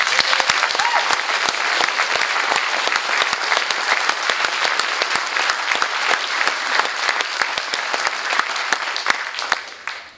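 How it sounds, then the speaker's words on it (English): A concert audience at a silver band performance gives a sustained round of applause for the band's percussionist, loud and dense with sharp individual claps, fading out at the very end. "So a big round of applause for Graham."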